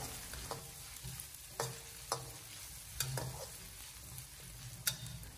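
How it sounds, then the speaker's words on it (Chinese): Ginger and garlic stir-fry slowly in oil in a pan over low heat: a soft, steady sizzle broken by periodic scraping strokes of a spatula, fairly quiet and close. "用小火把姜蒜的香味给它煸炒出来"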